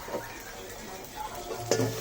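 Chicken stirred and fried in a pan for chicken curry, a close scrape and clatter of a utensil against the pan over a soft sizzle, with a sharper stirring burst near the end.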